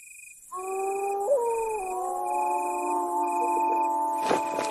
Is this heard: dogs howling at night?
yes